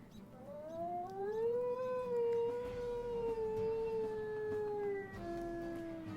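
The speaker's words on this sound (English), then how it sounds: "And let me play his Howl." A wolf in the WolfQuest video game lets out one long, sustained howl that wavers slightly in pitch and holds steady before easing off, heard alone and fairly clear.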